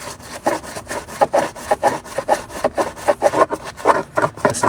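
A small brush loaded with a strong Green Star all-purpose cleaner mix scrubs the grimy interior of a smoker's car in quick, rhythmic back-and-forth strokes, close and loud, with no talking.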